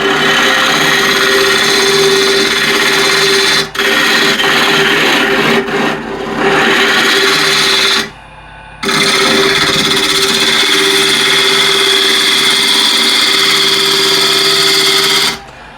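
A wood lathe spins near 1000 RPM while a gouge trues up a bowl blank, producing a loud, continuous whirring drone with a steady tone, broken by a couple of brief dips and one short pause.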